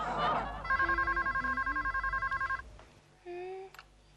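A mobile phone rings with a rapid, evenly pulsing electronic trill that runs for about two seconds, then a shorter electronic tone follows, with a brief voice at the start.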